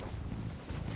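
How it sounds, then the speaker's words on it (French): Wind buffets the microphone outdoors just before a helicopter flight to a Greek island near Mykonos, a steady, close, rumbling rush with no break. "Il y a un peu de vent, mais ça va aller."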